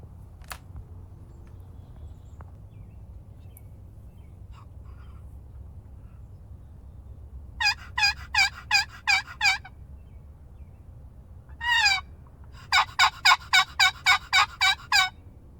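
Wild turkeys gobbling outdoors in a hunting setting, hen and tom: a rapid rattling gobble burst around the middle, a short call, then a longer loud run of gobbles near the end over low background rumble.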